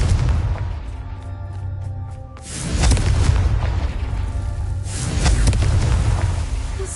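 Confringo spell explosions in Hogwarts Legacy, heavy booming blasts that roll out loud and close, one after another over a continuous rumble, with no talk.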